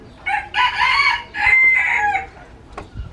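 Chickens or a rooster vocalize in a few short bursts of clucking and crowing calls, fairly close and moderately loud, with brief gaps between them and a couple of faint calls trailing off at the end.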